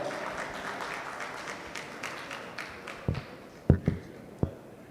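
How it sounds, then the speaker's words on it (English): Applause from an audience at a Dell corporate event as guests are introduced on stage: a faint, steady wash of clapping with a few sharper nearby claps standing out near the end. "तालियां हो जाएं जोरदार।"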